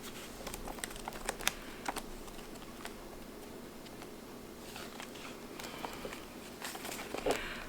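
Cash bills counted by hand from a household sinking fund, a soft irregular series of close paper flicks, rustles and light taps, fairly quiet with no talking.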